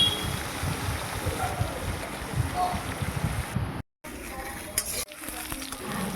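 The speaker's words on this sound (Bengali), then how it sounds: "একটু লাল করে একটু কড়া করে মাছগুলোকে ভাজবো" Catla fish pieces fry in oil for a Bengali mustard-kasundi fish curry, a steady close crackling sizzle with brief stirring noises, broken by a short drop to silence near the end.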